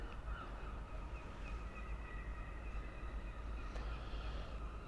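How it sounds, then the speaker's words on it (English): Shrill seagull calls ring out intermittently over a steady low rumble of distant traffic or wind in a quiet Blackpool town centre on Christmas morning, with no one talking. "All you can hear are the seagulls."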